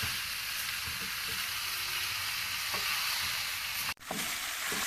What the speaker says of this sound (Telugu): ఇలా మటన్ మొత్తం వేసి మనం చక్కగా కలుపుకోవాలి.